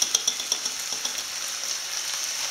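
A squid mixture poured into a hot frying pan, bursting into a steady bright sizzle with quick crackling pops at the start, close and continuous.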